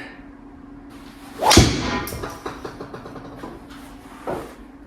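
A golf driver strikes a ball in a home golf simulator with one sharp, close whack, followed by softer clattering thuds and a faint later knock.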